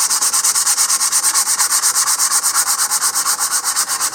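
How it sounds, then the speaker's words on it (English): 100 grit sandpaper scrubs back and forth across plywood in a quick, even rhythm, close and steady with no talking. "I'm going to start with some 100 grit sandpaper here, just to do the initial sanding here"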